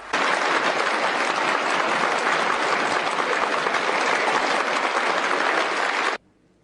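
Dense, sustained applause from a large audience welcoming Jiang Zemin, loud and steady for about six seconds before cutting off abruptly, with no voices over it.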